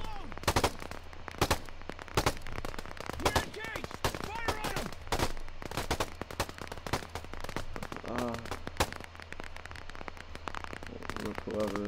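Rapid bursts of gunfire in the video game Operation Harsh Doorstop, loud and close, with many sharp shots and automatic volleys spread through the whole stretch while a voice talks over the action.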